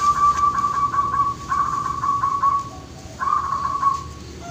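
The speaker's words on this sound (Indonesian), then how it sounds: "Jadi ini perkutut yang tadi sempat rekam giras ya, dan ini perkutut baru." Zebra dove (perkutut) cooing nearby in a series of clear, repeated whistled notes in short rhythmic phrases, loud over a steady background hum, with no talking.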